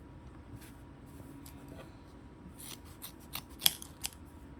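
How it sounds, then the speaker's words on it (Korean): Scissors snipping linen fabric while cutting pieces for a bucket bag, a few soft, faint clips in a quiet room building to sharper snips near the end. "이 부분은 잘라주세요"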